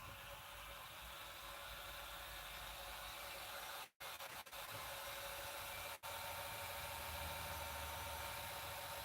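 A wood lathe running at about 1500 RPM gives a continuous broadband rushing hum with steady motor noise, broken by two brief dropouts, loud and close with no speech.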